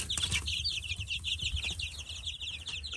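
Chickens of mixed sizes cluck and chirp in a busy, continuous chorus around a feeder, with soft rustling and scuffling underneath.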